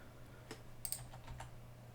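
Several light keystrokes on a computer keyboard, a few scattered clicks standing out over a steady low hum, fairly quiet and close, with no talking.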